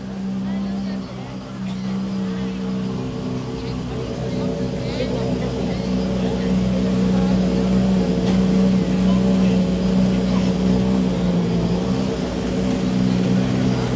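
Ford Fiesta rally car number 11 idling at the start ramp of the Donegal International Rally, its engine holding a steady, close, droning hum with a rich low rumble that never lets up.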